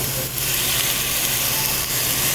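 Water poured into a hot pan of frying protein sizzles and hisses loudly and steadily, a close, continuous broadband crackle with no voices.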